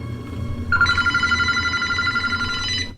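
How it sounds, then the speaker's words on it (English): An old black telephone's bell rings in one loud, continuous electric trill lasting about two seconds, over a low background hum. "How is that phone ringing? It ain't even plugged up."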